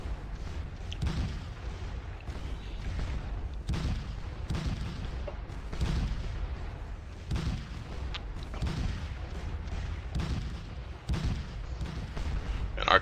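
Cannon artillery fires repeatedly in a Waterloo battle video game, heavy booming thuds landing every second or so in an irregular barrage over a rumbling battlefield din.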